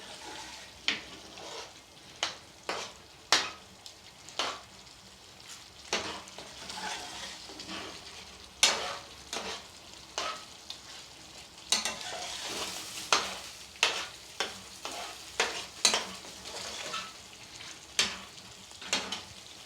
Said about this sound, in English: Scrape that back into your curry.